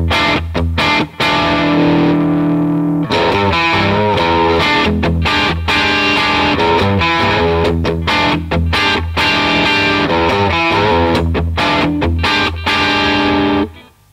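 A Greco Les Paul electric guitar played through the middle neck pickup position with distortion and effects, loud and continuous strummed chords and riffs with a brief pause near the start, no talking.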